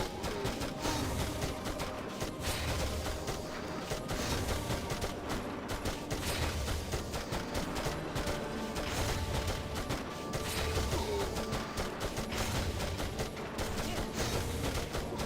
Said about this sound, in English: Look at that recoil with the machine gun.